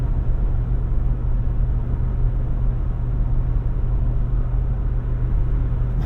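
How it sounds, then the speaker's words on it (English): Steady, loud wind roar and tire rumble inside a 2024 Jeep Wrangler Rubicon 392 Final Edition cruising at 60 mph, a dense continuous low drone with no talking. "you can definitely hear a lot of that wind noise and tire noise"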